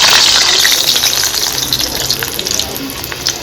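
Garlic hits hot oil in a pan for a tomato curry and sizzles loudly at first, a bright hissing crackle that slowly eases off over a few seconds.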